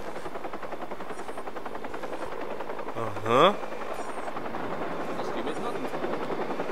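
A helicopter in the video game Watch Dogs keeps up a steady, even rotor thrum the whole time. A brief swooping sound rises over it midway, and someone speaks a short word.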